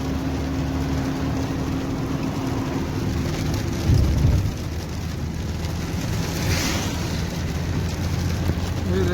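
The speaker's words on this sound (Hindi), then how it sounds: "सऊदी अरब में आज बारिश हो रहा है माशाल्लाह।" Steady rain falls in a village in Saudi Arabia, a dense, even hiss that lasts throughout, with a low rumble near the middle and no talking.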